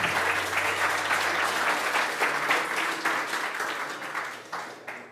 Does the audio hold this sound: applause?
yes